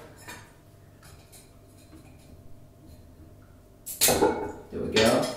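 A knife slits open iPhone 5 packaging in two loud, close bursts of scraping and tearing, after a stretch of quieter faint handling.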